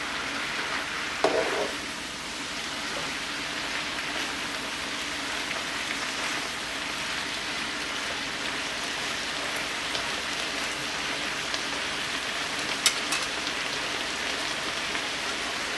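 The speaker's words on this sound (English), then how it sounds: "First you want to saute the meat with the veggies" Meat and vegetables sauté in a pan for Cuban ropa vieja, a steady, dense sizzle holding at even loudness from start to finish, with a brief clatter early on and a sharp click near the end.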